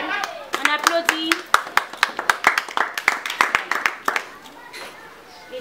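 A gathering claps after a prayer, individual hand claps ringing out in a loose, uneven rhythm that gradually thins and fades, with voices murmuring underneath.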